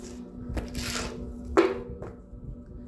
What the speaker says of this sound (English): Couple shuffles, and we will begin your reading.